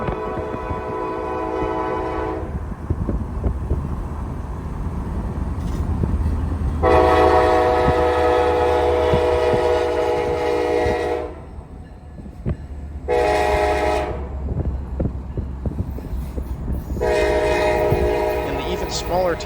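A Norfolk Southern local freight train rolls past in the evening, with a low rumble of wheels and cars throughout. Its loud horn sounds in several long blasts and one short blast.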